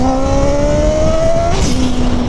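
A turbocharged Yamaha XJ6 motorcycle accelerates hard on a cool road, its engine tone rising steadily, then the revs drop sharply as a loud hissing turbo blow-off bursts out, close and dominating.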